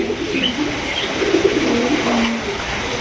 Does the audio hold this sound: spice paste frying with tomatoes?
no